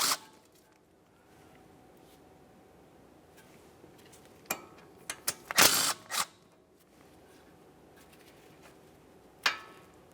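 Two 10mm bolts come out of the brake flex hose bracket on a 1994–1997 Honda Accord front suspension: a few isolated metallic clicks and clinks of a ratchet and bolts, one louder clatter in the middle, then quiet.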